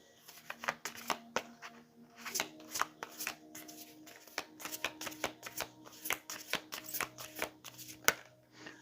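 Affirmation cards shuffled by hand close up, quiet repeated riffles and card snaps in an uneven rhythm, with no one speaking.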